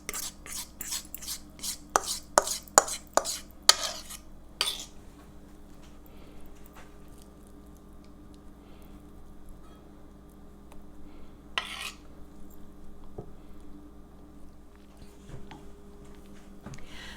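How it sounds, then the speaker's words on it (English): A spatula scrapes chocolate cake batter out of a cast iron skillet in a quick run of sharp, rhythmic strokes, then the sound settles into quiet kitchen background broken by one more scrape. "I'm using my spatula to get all the batter out."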